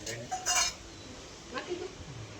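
Dishes, pots and utensils clatter and clink as they are washed and cleaned, a few sharp metallic knocks in quick bursts at moderate distance, fairly quiet, with soft room noise between them.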